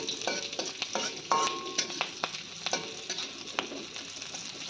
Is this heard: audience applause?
no